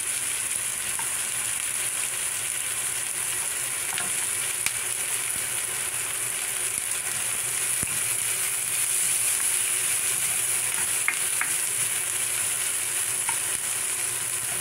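Garlic sizzling and frying in hot oil in a pan for pinakbet, a steady crackling hiss that holds even and close throughout with no talking.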